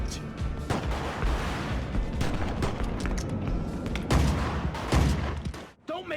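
Gunshots in the game GTA Vice City: repeated loud bangs and rapid bursts of fire ring out one after another over a noisy action background.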